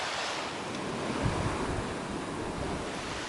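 A constant, loud rush of strong wind mixed with surf at a seaside fishing spot, blowing steadily with no pauses and no voices.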